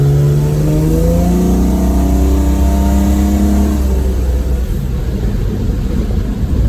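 A car's 245 HEMI six-cylinder engine with Weber carburetion revs steadily under load in third gear at low revs, rising harmonic tones climbing then fading into a rough, loud drone close to the microphone.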